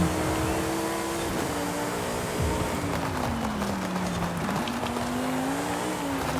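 Lamborghini Huracan STO in Forza Horizon 5 spinning its rear wheels, a loud, steady engine drone with rising and falling revs and tire squeal throughout, no talk.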